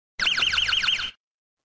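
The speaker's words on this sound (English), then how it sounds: "If the user hits checkpoint 2, it will make a sound like this." A security patrol app chimes when the correct checkpoint is tapped: a short, bright electronic tone warbling up and down about five times in quick succession, clean and alone, lasting roughly one second.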